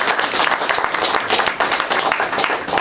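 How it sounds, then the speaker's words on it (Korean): An audience at a lecture on the realities of immigrants across generations claps, producing a dense, steady wash of applause that lasts for about three seconds at even loudness. "감사의 박수를 부탁드리겠습니다"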